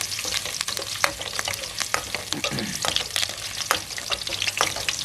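Garlic stir-frying in a hot pan crackles and sizzles steadily, with repeated sharp scraping strokes of a utensil and loud, close clatters throughout.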